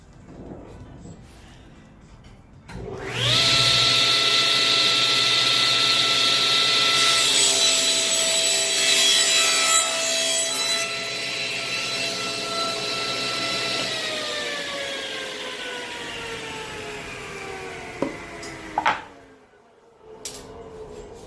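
A saw cuts through wood guided by an INCRA Miter 1000 miter gauge, with the blade spinning up to a loud, steady whine for about ten seconds before winding down, followed by a few light knocks.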